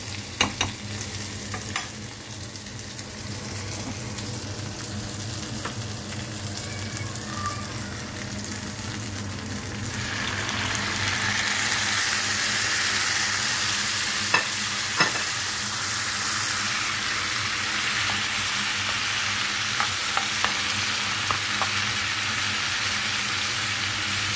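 Peppers and tomatoes for menemen sizzle steadily in a pan, the frying growing louder partway through, with occasional sharp clicks of a utensil stirring against the pan.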